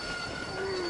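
A train rumbling along in Red Dead Redemption, a steady dense rolling noise with thin high whining tones from the wheels on the rails, constant and fairly loud with no pauses.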